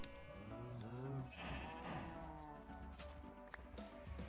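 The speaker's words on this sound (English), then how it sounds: "Cow outside the window. This is a cow farm." Livestock calls out on a cow farm, heard through a window as drawn-out bleating moans that rise and fall, fairly close, against a steady background hum.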